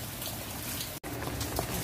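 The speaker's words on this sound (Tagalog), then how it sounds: "Kung sa atin ito ganitong ulan parang normal lang to guys, no?" Steady rain falls during Cyclone Shaheen in Oman, a close and continuous patter on surfaces with a brief break partway through.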